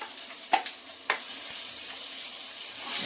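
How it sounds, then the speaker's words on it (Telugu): Curry leaves and tomato pickle frying in hot oil, a continuous soft crackling sizzle with a few sharper pops, close by, no voices. "క్రిస్పీగా వేగింది కదా కరివేపాకు, చూడండి సౌండ్ ఎలా వస్తుందో"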